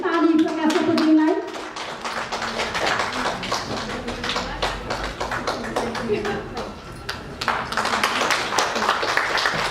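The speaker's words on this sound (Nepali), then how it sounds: "हाम्रो तर्फबाट विशेष सम्मान अनि विशेष ताली प्रकाश सपुतज्यूलाई।" An audience claps for an honoured singer, with scattered and uneven hand claps, while voices, including a child's, carry on over them throughout.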